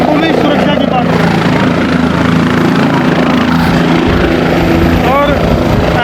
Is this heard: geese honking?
no